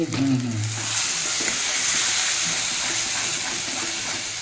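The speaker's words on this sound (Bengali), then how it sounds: "এবার নাড়তে হবে, এবার ভালো করে শুকনো করে একদম নামাতে হবে।" Food stirred in a pan as it cooks down to dryness fries with a dense, steady sizzle and hiss, under brief scraping from the stirring, with a low murmur of voices near the start.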